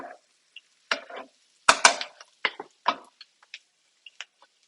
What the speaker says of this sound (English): And just keep giving that a nice stir.